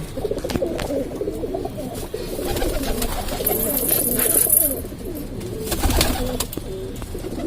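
Several pigeons coo in low, throaty murmurs, overlapping steadily, with occasional clicks and flutters nearby.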